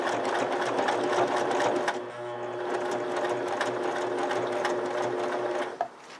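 A sewing machine stitches through tough saddle leather with a steady, close, loud mechanical whir. Its tone shifts and eases slightly after the first couple of seconds, then the run stops abruptly near the end.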